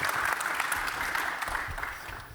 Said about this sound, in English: I think this is worth applause for them